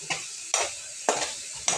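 Pumpkin curry being stirred in a pan, four distinct scraping strokes at a steady rhythm over a faint sizzle, close and clear with no talking.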